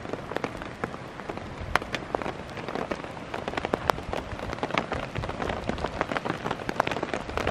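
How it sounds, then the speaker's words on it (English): Hail patters and cracks against a camping tent in the Eastern Sierra, a dense steady hiss broken by many sharp individual impacts, some close and loud like small shots. "No one's getting wet because it's just hail so far."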